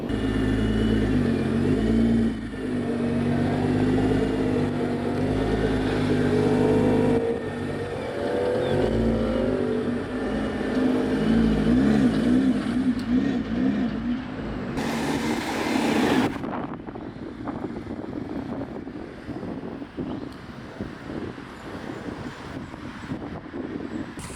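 A Nissan R35 GT-R pulls away, its engine droning and revving loudly at first, then fading as the car drives off into the distance, with no talk.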